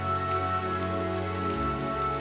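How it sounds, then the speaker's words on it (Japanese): Steady rain falls continuously in an outdoor setting, a dense, even patter of drops on surfaces with a low rumble underneath and no voices. "止まないわね、雨。"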